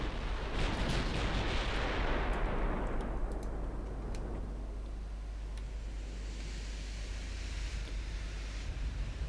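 Battleship main guns fire in the naval game Ultimate Admiral Dreadnoughts, a heavy roaring blast that swells and slowly decays into a long rumbling wash, with faint scattered cracks over steady low sea-like noise.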